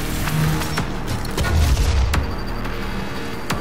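Gunshots in Doom (2016) on Xbox One: heavy booming blasts and crackling shots in a loud, constant combat mix, with a few sharp reports standing out and no talk.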